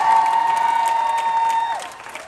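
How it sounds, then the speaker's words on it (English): Audience at an Amazon Studios event clapping and cheering steadily with a sustained tone ringing over the crowd, the applause thinning out toward the end. "Y'all ain't clapping loud enough."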